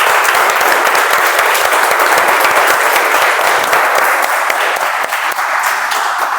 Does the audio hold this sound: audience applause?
yes